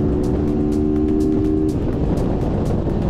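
A racing motorcycle tears through a corner at full speed on the Chuckwalla track day circuit, a loud sustained engine roar with a steady tone that shifts partway as the bike drives through the bend, no voices.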